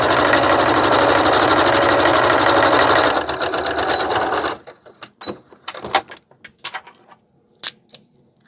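A sewing machine stitching straight across cotton gauze, loud steady mechanical whirring for about four seconds, then stopping, followed by soft fabric handling and small clicks.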